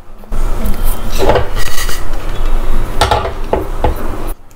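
Around 250 grams of salt is spread in a thin layer across the bottom of a pressure cooker for baking a sponge cake, with loud metallic scraping and clinking of a utensil against the cooker in several bursts.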